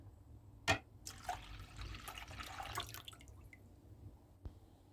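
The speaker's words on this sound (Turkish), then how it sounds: "1 litre sütü uygun kabımın içerisine boşaltıyorum" One litre of milk poured into a pot for a custard dessert, a faint liquid trickle and splash with a few small drips and taps, close and quiet.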